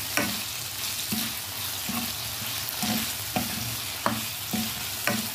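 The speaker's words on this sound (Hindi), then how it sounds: "अब हम इसमें डाल देते हैं टमाटर। इसको मैं मिक्स कर देती" A spoon stirs tomatoes into potato and eggplant curry frying in a pan, under steady sizzling, with regular scraping strokes about once a second.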